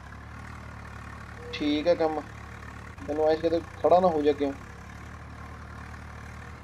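A Swaraj 744FE tractor engine idles in Farming Simulator 19, a steady low rumble running throughout beneath someone talking.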